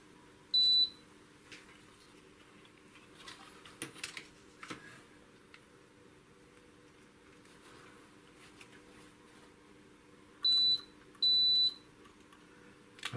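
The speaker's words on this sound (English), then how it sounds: "So I will check with the continuity tester if I find the corresponding pin in this" Short electronic beeps from a continuity tester probing connector pins on a Collins aircraft VOR/ILS NAV receiver, heard as one brief tone near the start and two more close together near the end, with faint handling clicks between.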